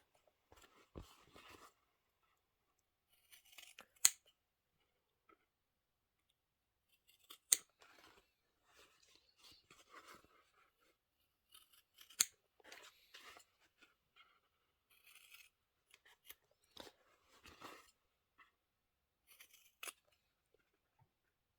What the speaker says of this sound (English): we're going to go ahead and trim up these corners. Trim close, but don't trim that stitch.